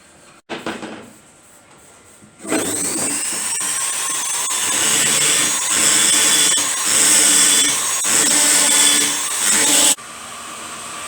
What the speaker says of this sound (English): Just scrubbing out the other case